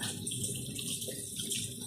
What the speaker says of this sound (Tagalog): Tayin muna natin yung gripo.